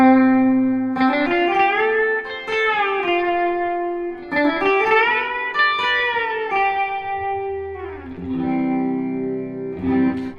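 Electric guitar playing a country string-bending phrase, smooth sustained notes rising and falling in pitch through effects with a touch of reverb, loud and clear with no talking.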